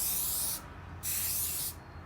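Rust-Oleum 2X spray paint hisses from an aerosol can in two steady bursts, a short pause between them, close and bright with no talk.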